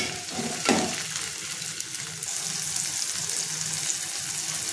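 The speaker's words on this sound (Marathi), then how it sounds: "आता आपण टोमॅटो टाकून घेऊयात आणि ते सुद्धा आपल्याला छान सॉफ्ट होईपर्यंत परतून घ्यायचे।" Chopped tomatoes hit hot oil in a pan, with a sharp clatter as they drop in, followed by a steady sizzle and stirring that grows slightly louder and brighter partway through.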